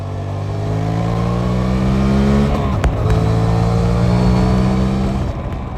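Suzuki GSX-8S motorcycle engine pulling hard under acceleration, a loud, close, steady drone that rises in pitch, drops briefly as a gear changes, then climbs again.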